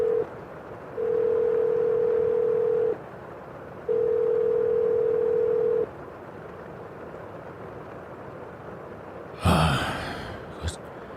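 A steady telephone dial tone sounds in three long pulses separated by short gaps, followed by quiet and then a brief rustling burst near the end.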